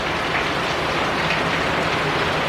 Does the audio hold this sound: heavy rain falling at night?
yes